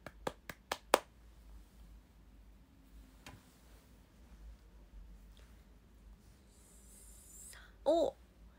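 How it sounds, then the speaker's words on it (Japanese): A streaming idol trainee claps her hands: four quick, close claps at the start, then quiet room tone with faint murmuring and a short tonal electronic sound near the end. "拍手"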